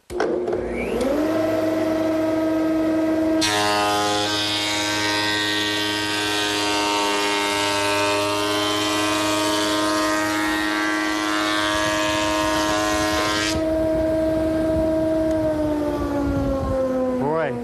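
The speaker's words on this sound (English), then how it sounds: "Now I'm ready to run it through my surface planer" A surface planer feeds a wooden board through its rollers, building from a steady motor whine into a loud, harsh planing roar that lasts about ten seconds and then drops back to the motor hum before the machine spins down.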